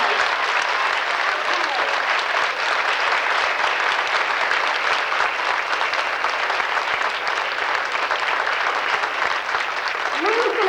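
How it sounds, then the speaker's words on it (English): Audience gives a long, sustained round of applause for the new operators of a reopened historic theater, dense clapping with faint cheering at an even level throughout. "Give them a big round of applause."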